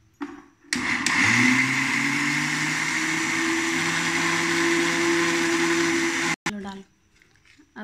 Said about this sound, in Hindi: अब हम इसको मिक्सर में डालकर उसको पीसेंगे।